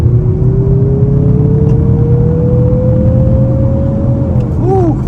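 A 2024 Mazda CX-50 Turbo Premium engine drones loudly and close from inside the cabin, pitch climbing steadily under acceleration toward about 5,500 rpm before dropping on a gear change.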